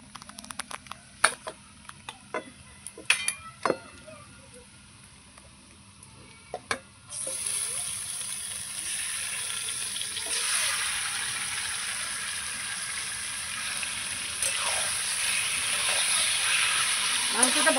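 Chicken pieces rubbed with spices are stirred into fried onions in a pan. A few sharp scrapes of the stirring spoon come first, then a steady loud sizzle of frying takes over and holds to the end, with no talking.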